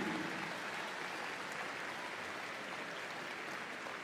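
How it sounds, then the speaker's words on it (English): Audience applause at Crufts dog show for the Southern Golden Retriever Display Team, a faint, even hiss of distant clapping across a large arena, steady from start to finish. "Ladies and gentlemen, give them a massive round of applause."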